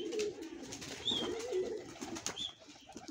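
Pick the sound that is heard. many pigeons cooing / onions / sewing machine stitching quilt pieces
many pigeons cooing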